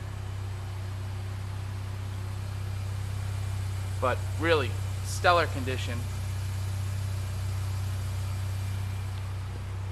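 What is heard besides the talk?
2002 Mini Cooper engine idling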